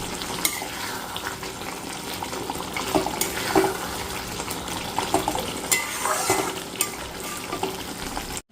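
Chhana curry cooking in oil in a pan, a steady close sizzle and frying hiss with occasional scraping stir clicks, no voices.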